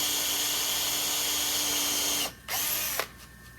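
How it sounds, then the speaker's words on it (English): Power drill with a countersinking bit driving screws into wood while building a woodworking shooting board, giving a steady whine for over two seconds, then a brief stop and a short second burst. "with countersinking bit, because we want the screws to go all the way down."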